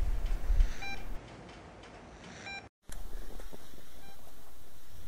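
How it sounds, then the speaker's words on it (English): A small UHF tracker transmitter picked up by an SDR receiver chirps two faint, spaced electronic beeps over radio hiss; the signal briefly cuts out, then returns as steady static. "the beeps you hear come from this little transmitter here"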